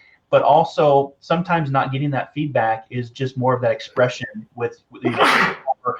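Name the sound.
sneeze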